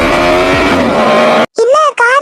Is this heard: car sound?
yes